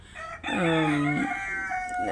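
A single miniature rooster crow, loud and close, with a short rising start and a drawn-out wavering tail, fairly high-pitched.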